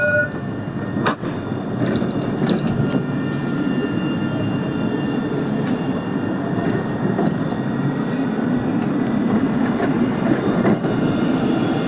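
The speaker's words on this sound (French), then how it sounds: "il y a la ligne 3 qui quitte le dépôt. Donc ce tram va en direction de Pérols et Temps-de-l'Or." A Montpellier TAM line 3 tram pulls away from the depot at the Mosson terminus. Its rumble is steady and fairly loud, with faint wheel squeals and rail clicks over the constant rolling noise.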